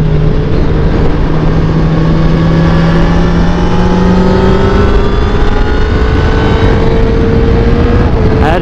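A motorcycle engine winding up hard at speed on the Dijon race track, a loud, close, continuous drone with rising engine tones and constant wind rush.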